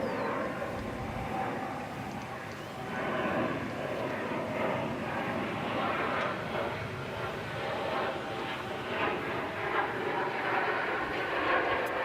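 An airliner climbs out from a departure runway at DFW Airport in North Texas, a steady loud engine roar that holds throughout with a broad rushing hiss.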